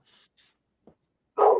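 A single loud dog bark comes at the end, after a few faint scattered sounds and near silence.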